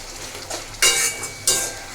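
Chicken masala being stirred in a cooking pan, with two loud bursts of scraping sizzle over a low frying hiss, close and with no voices.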